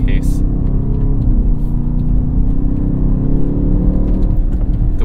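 Hybrid 2023 BMW XM launching from a standstill on asphalt, a loud, continuous engine and motor roar heard from inside the cabin, with someone talking over it.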